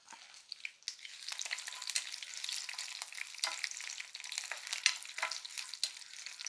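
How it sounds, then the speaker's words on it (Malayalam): Dried red chillies sizzle and crackle steadily in hot oil over low heat, a close, continuous frying hiss with small pops and no voices. "ആദ്യം മുളക് അങ്ങ് വറുത്തെടുക്കാം"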